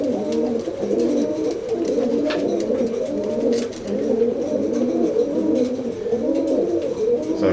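Pigeons cooing steadily in a breeding loft, with many overlapping soft, throaty coos close by, continuous and fairly loud, with no talking.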